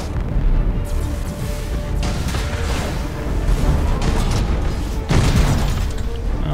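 Heavy Nova cannon salvos from warships in Battlefleet Gothic: Armada 2 roll out as deep, booming blasts, with a loud surge near the start and another sharp burst late, over continuous rumbling battle noise.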